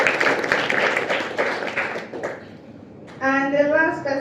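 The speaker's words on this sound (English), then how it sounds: "So please another round of applause for Uchi." An audience at a community summit in Kigali claps briefly, a short burst of applause that fades after about two seconds before a voice starts talking.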